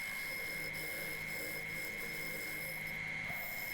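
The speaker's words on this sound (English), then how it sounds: "we're working on the back of the lathe with the big gouge 40/40 grind, spinning at 1400 RPM" An ash bowl spins at 1400 RPM on a wood lathe while a big bowl gouge with a 40/40 grind cuts its back, producing a steady, continuous close-up rasping hiss over the lathe's hum.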